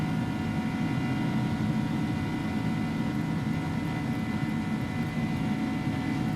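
Simulated Airbus A300-600R airliner climbing out after departure from Dubai in X-Plane 11, a steady, loud jet-engine drone with a continuous low rumble and no pauses.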